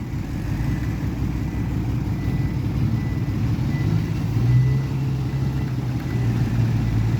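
A tractor engine runs steadily at close range on a muddy track where vehicles are getting stuck, giving a continuous low, even rumble with a slight swell midway and no voices over it.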